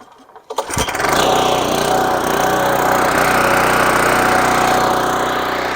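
A 14-blade GM1000 reel mower engine, with choke at half and throttle fully up, is pull-started: a brief yank and sputter, then the engine catches and roars into a loud, steady, close running drone.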